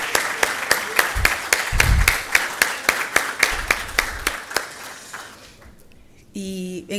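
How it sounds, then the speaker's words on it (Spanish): Applause from an audience at a law thesis lecture, with sharp, evenly spaced claps ringing out clearly over a thinner patter of hands, then fading away before a voice begins at the end. "un aplauso para él y para todos ustedes"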